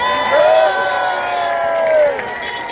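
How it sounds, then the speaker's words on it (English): A crowd at a rally march to a tent city at Creedmoor cheers and applauds, loud and sustained, with shouts and whoops rising and falling throughout. "Let's give them a great round of applause."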